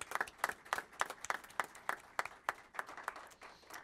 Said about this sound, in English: I want to give a round of applause to our city clerk staff as well for coming out that morning.